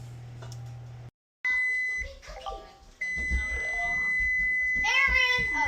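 A kitchen cooking timer gives a short electronic beeping, a few clear bleeps heard alongside talking in the room.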